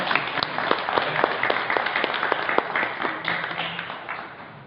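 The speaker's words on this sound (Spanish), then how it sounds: "vamos a darle un fuerte aplauso" Applause for the Valle Verde water committee at a community water forum in Chalco, a steady wash of clapping from a crowd with sharp individual claps standing out, fairly loud and continuous throughout.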